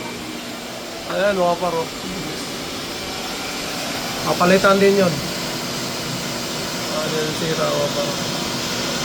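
A vacuum cleaner drones steadily in the background throughout, a constant whooshing hum, while people talk over it in short bursts.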